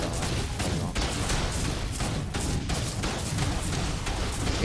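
Gunfire crackles steadily in a PvP fight in Ark's underwater cave, a dense, continuous burst of shots with no clear pauses, loud and close throughout.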